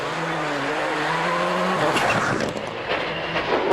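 Marco Martin's rally car charging through a stage of the 2004 Monte Carlo Rally: a droning engine note shifts into a rougher, broadband roar with tyre and gravel noise, loud and close throughout.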